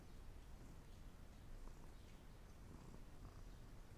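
A contented cat purrs very close to the microphone, a faint continuous low rumble without pause.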